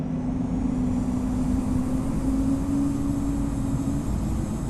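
A Breeze Airways Airbus A220 jet rolls for takeoff in the Infinite Flight simulator, a steady loud engine roar with a droning hum that holds evenly throughout.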